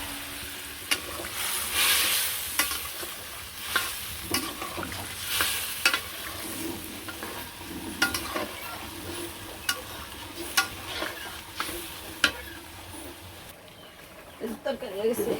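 A fish and onion curry with ground cumin sizzling in a hot pan, a low crackling bed broken by regular sharp scrapes and knocks of a spoon against the pan, with occasional voices nearby.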